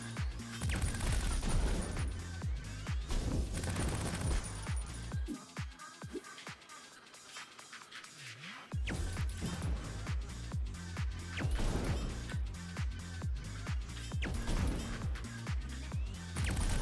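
Bomb blasts and impacts in the CrossCode action game crack in repeated sharp bursts over busy battle sounds, with a short quieter stretch midway before the clatter resumes.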